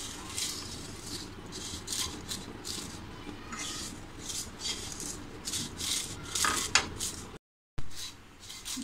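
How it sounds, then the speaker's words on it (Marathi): Roasted vermicelli stirred and fried in ghee in a pan, with soft sizzling under repeated scraping and clinking of a spoon against the pan, close and steady with short pauses. "आपल्याला थोडेसे त्यांना असे तेलात परतायचे आहेत, तुपात परतून घ्यायचे आहेत"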